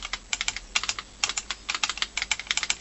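Keys on an old keypad assembly are pressed in quick irregular bursts, each one a crisp, close plastic click with short pauses between runs.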